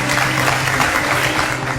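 Audience applause for a singer at a live event, a dense, steady wash of many hands clapping close and loud throughout, with no pauses.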